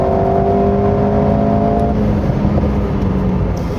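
A 2022 Renault Alpine A110 mid-engine sports car is driven on a winding road, its engine a loud, steady drone heard from inside the car, with a higher tone easing off partway through.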